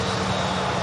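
An EasyJet Airbus A320 taxiing at Manchester Airport gives off a steady, even jet engine drone with no pauses, heard on its own.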